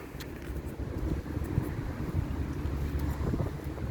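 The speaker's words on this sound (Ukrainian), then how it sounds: "сьогодні вітряно" Steady wind buffets the microphone, a low rumbling roar that rises and falls slightly without any voices.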